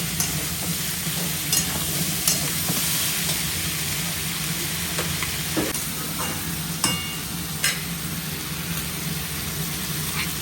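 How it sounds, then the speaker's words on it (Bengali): Elephant foot yam and potato pieces fry in oil alongside prawns in a pan, a steady close sizzle and hiss broken by occasional spoon stirs and light scraping. "এবারে ওল আর আলু দিয়ে দিলাম। এটা সুন্দর করে ভাজবো।"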